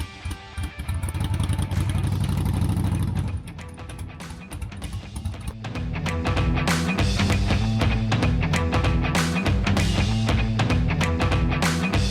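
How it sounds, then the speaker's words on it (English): Motorcycle being ridden, close engine drone that shifts pitch midway as the rider changes gears and accelerates, with rumbling wind and road noise throughout. "So you may notice I'm riding a motorcycle."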